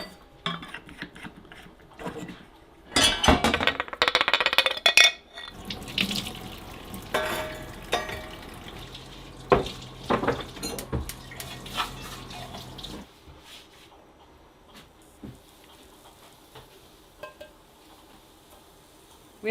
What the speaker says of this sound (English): Let me get the grinder cleaned up.